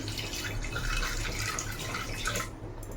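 Water poured from a tap or jug into a pot holding carrots, beans and capsicum, a steady continuous splashing flow for about two and a half seconds that stops abruptly near the end.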